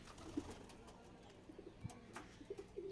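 Pigeons, including wild doves, kept in a backyard loft give faint low coos and soft rustling at a distance, a few quiet murmurs scattered over a hushed background.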